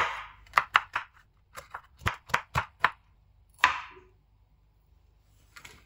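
A knife chops green chili on a cutting board in quick irregular bursts of crisp taps, a cluster of eight or so close strikes followed by a pause and one more, near and clear.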